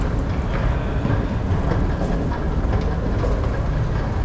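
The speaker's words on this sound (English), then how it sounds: "God, I miss the European subways. European metros, European underground stations." Athens metro train running underground, a loud, steady rumble with rattling and clatter filling the whole clip, no voices over it.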